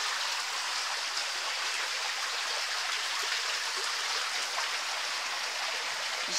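Water runs along a small closed-circuit garden pond stream, a steady, even trickling rush with no breaks, heard fairly close.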